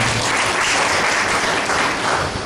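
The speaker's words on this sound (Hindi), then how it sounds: "छत्तीसगढ़ ताली बजाओ।" A church congregation claps during a Sunday sermon, loud, close and continuous applause filling the room without a break.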